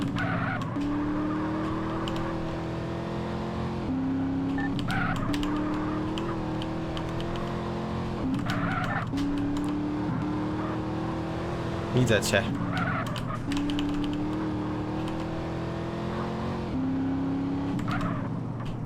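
Cars skid and screech through a PIT-manoeuvre chase in GTA: San Andreas, a steady engine drone broken by tire squeals and a sharp crunch near the middle, with someone talking over it.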